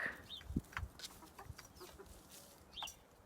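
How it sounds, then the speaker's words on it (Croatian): Chickens, including a rooster, cluck softly and intermittently in a garden henhouse, with a few higher squawks and chirps, in a quiet outdoor setting with no talking. "mi imamo na vrtu kokoše. O, lipe kafetske kokoše. I jedan petijah."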